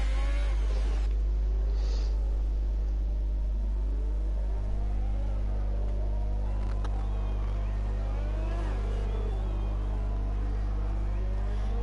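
Formula One car engine at full throttle on a fast lap around the Monaco street circuit in an F1 racing video game, a loud continuous high-pitched whine that rises and falls with gear changes, steady and close throughout.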